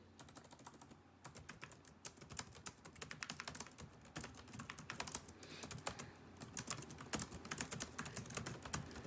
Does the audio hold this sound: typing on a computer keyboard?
yes